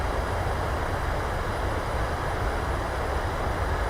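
Simulated airliner thrust reversers roaring during a landing rollout in Microsoft Flight Simulator, a steady loud broadband rush with no break.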